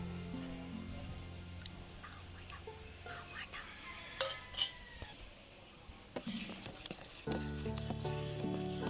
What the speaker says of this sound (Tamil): வெங்காயத்தை நல்லா வதக்கி போட்டிங்கன்னா வாசனையாக இருக்கும்